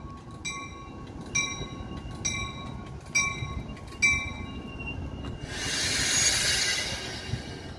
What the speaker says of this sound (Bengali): এই যে ট্রেনটি এসে থামলো।